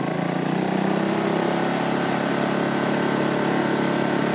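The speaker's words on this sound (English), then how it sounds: "by turning off the auto idle, and this will in turn cause the engine to run" A Ryobi 2200 digital inverter generator runs at maximum RPM with auto idle switched off, giving a steady, loud, even engine drone with a constant tone and no voices over it.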